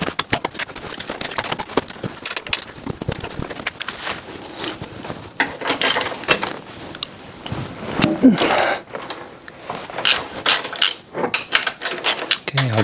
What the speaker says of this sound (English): I'm gonna go ahead and disconnect the sway bar.